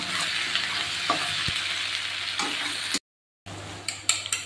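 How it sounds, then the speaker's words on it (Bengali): Garlic and sauce fry in a pan for chili potato with a dense, steady sizzle and occasional stirring knocks. A brief silent gap comes near the end, then the sizzle resumes with sharper clatters. "তো রসুনটা দেওয়ার পর একটু ফ্রাই করে নিয়ে তার মধ্যে এবার দেখুন দিচ্ছি এখানে সস।"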